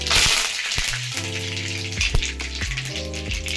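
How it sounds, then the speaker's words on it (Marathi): Mustard seeds and cumin crackling in well-heated oil in a pan while tempering for vada pav, a loud steady sizzle with scattered pops and spoon clinks. "ते आपलं तेल चांगलं तापले, त्यात आपण ॲड केलेलं आहे राई आणि जिरं"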